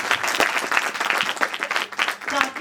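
Loud applause from a seminar audience at a business workshop celebration, steady dense clapping filling the whole stretch with a few sharper individual claps standing out, some voices mixed underneath.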